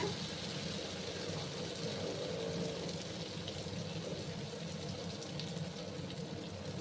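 Water runs steadily from a tap to rinse a bowl and is poured into a pan of mustard-poppy seed paste simmering over a low gas flame for an ash gourd dish, a continuous, fairly loud hiss throughout.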